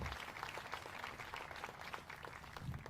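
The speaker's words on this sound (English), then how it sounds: "how about another round of applause to the Blue Eagles Honor Guard and Senior Airman Kayla Highsmith" Applause from an audience at a formal speech event at the Richard Nixon library, a steady dense patter of clapping that fills the whole stretch at moderate distance, with no clear talk over it.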